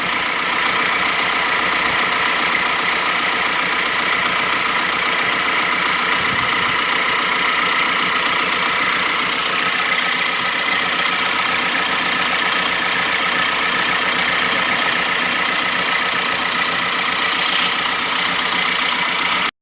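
A Mitsubishi Triton All New HDX engine idles during an air-conditioning gas refill for a leaking evaporator, a loud, close, unbroken mechanical drone that holds steady throughout.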